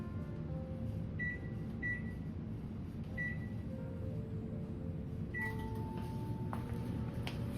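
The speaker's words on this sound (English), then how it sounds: "So I'm going to put it in the microwave to melt it." A microwave oven hums steadily with a constant drone, punctuated by a few short electronic beeps near the start and end.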